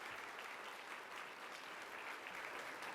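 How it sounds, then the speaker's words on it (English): An audience at a law firm's annual seminar claps in a steady, dense round of applause. It is fairly faint and even from start to finish, with no clear voices. "Please give them another round of applause because they've been absolutely fantastic."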